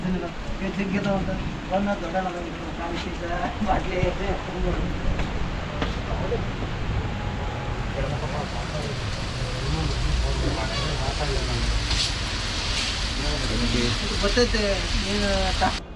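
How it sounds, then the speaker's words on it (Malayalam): Steady rain falls outdoors, a continuous hiss under someone talking throughout. "മഴയായതുകൊണ്ട് കയറിയിരിക്കുവാണ്."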